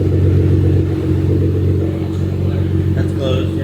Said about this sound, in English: Curtis is gonna do valves closed and then valves open.